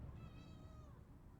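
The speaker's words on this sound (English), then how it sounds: "I don't know if you could hear the meowing in the background." A pet cat meows in a drawn-out, wavering call near the start, fairly faint in the background against a steady low hum, fading out by the second half.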